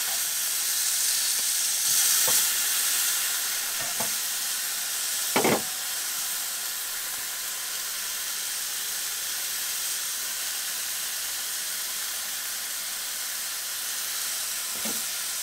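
Smash burgers frying in a pan at a rainy winter campsite, giving a steady close sizzle and hiss throughout with a few brief sharper spits and clinks.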